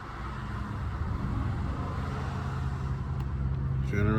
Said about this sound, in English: Gonna turn on our generator.